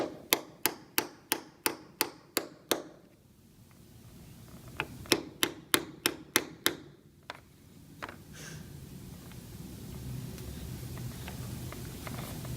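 A hammer taps a wooden dowel repeatedly in two quick, evenly spaced bursts of about seven sharp knocks each, close up, followed by quieter shuffling and handling noise.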